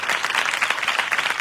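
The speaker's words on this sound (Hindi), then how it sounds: "लेकिन फिर से एक बार हम स्वागत करेंगे यीशु मसीह का, जोर से तालियों से बजा।" A Pentecostal church congregation at a wedding blessing ceremony for ten couples applauds loudly, a dense and steady wash of many hands clapping together at close range for the whole stretch.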